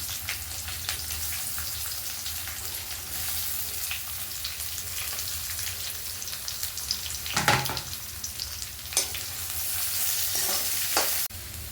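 Chopped onion frying in oil in a pan for dal khichdi, a steady sizzle throughout with a few sharp clinks of a utensil against the pan near the end.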